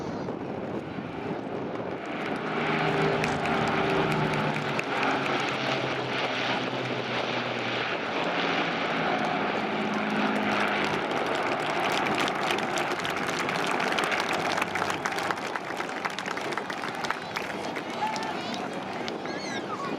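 An Avro Lancaster bomber of the Battle of Britain Memorial Flight passes overhead at an air display, its piston engines swelling into a loud, steady drone over crowd noise and a public-address announcer.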